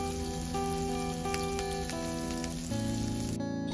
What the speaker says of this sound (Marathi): आता इथे मी व्यवस्थित मच्छी खालच्या बाजूंनी फ्राय होऊ देणार आहे